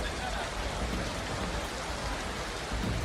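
Heavy, steady monsoon rain during a cloudburst in Chamba, Himachal Pradesh, with a dense, continuous hiss of downpour close by and no break throughout.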